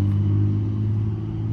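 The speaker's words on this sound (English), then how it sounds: "I'm sorry about the noise of the cars." Traffic on a nearby road gives a steady low rumble of passing cars, continuous and fairly loud, with no voices over it.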